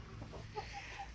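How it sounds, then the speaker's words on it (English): Roosters on a backyard farm give a few short, soft clucks, brief repeated calls over a steady low outdoor hum. "There's the other two roosters."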